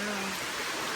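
Rain pours steadily while someone wades through a river, a dense, even hiss close around with no clear voices.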